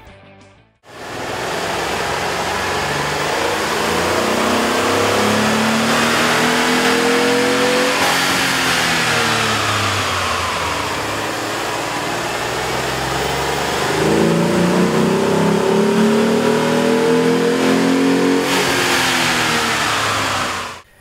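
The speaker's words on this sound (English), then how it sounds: "we ran the vehicle on the dyno to test the sound comparison versus the stock intake" A Dodge Nitro or Jeep Liberty SUV engine with a K&N cold air intake revs up and down repeatedly on a dyno, a loud, sustained roar rising and falling in pitch with a broad, airy intake tone throughout.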